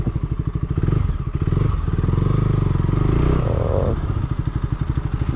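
Close KTM Duke 200 BS6 motorcycle engine throbbing steadily through a stoppie stunt, a loud rhythmic low pulse with a brief rise in revs and scraping texture midway before settling.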